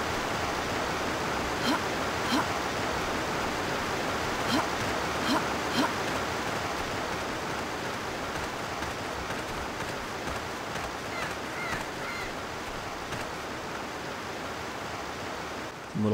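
Waterfall in the video game Trespasser, a steady, even rush of falling water holding at a moderate level throughout, with no talking.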